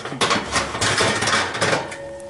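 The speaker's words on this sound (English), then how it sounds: "I'm gonna move this out of the way. It's a pretty big pot." A big metal pot scraped and clunked across a stovetop, a few close knocks and rattles over about two seconds, no voices.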